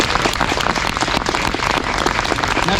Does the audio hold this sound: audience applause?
yes